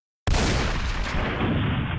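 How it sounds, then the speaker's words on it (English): A duck-hunting club opens fire with shotguns all at once, a sudden loud blast that merges into a dense, sustained roar of overlapping gunfire. "all the hunting club lifted their guns and began to fire"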